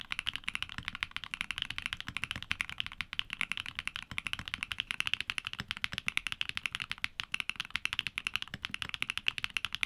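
Keygeek mechanical switches in full nylon housings with UPE stems and snappy 22mm springs, typed steadily on a keyboard: a continuous, fairly quiet stream of rapid, even clacks with no pauses or voices.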